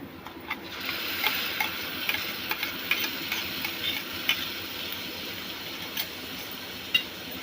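Soft scraping and light clinking as tomato puree is stirred into carrot masala pasta in a pan, a steady quiet stirring texture with faint ticks, no voices.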